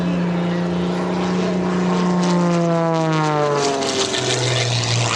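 A propeller aerobatic airplane roars steadily overhead during an airshow routine with snap rolls, its engine pitch rising and falling sharply as it maneuvers, loud and close throughout.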